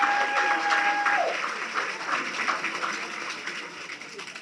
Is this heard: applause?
yes